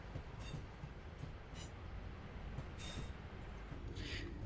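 Steady rumbling hum of a Class 323 electric commuter train running in Train Sim World 5, with faint rail clatter and occasional high squeaks over a constant low drone.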